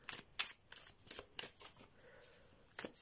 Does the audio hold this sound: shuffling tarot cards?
yes